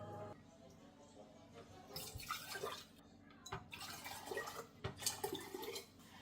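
Hot cider twisted out of a pressed batch, wet squeezing and dripping in uneven bursts, close and faint, with a few sharp taps between.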